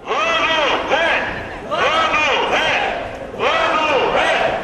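Protest marchers in Chernivtsi chant "shame" in unison while carrying a huge flag, three loud rhythmic crowd shouts with brief gaps between them, close and echoing outdoors.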